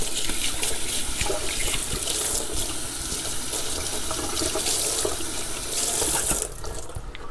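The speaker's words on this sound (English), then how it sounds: "Let me wash my hands." A kitchen tap runs steadily into a sink during handwashing, with close splashing and shifting water noise as hands move under the stream. The flow eases near the end.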